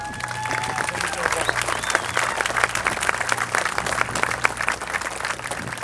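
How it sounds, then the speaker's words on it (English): An audience at an opening ceremony honouring a 30-year Czech Republic partnership gives a steady round of applause. The clapping is continuous and full throughout, with some cheering and voices mixed in. "So let's give a round of applause for"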